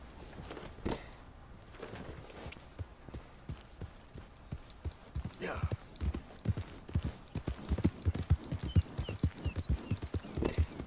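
Horse hooves clip-clop in Red Dead Redemption 2, a quickening rhythmic run of hoofbeats that starts sparse and grows steady and close, with faint game ambience behind.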